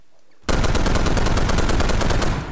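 Rapid automatic gunfire from a video game weapon bursts in loud and sustained after a brief quiet start, a dense rattling stream of shots continuing to the end.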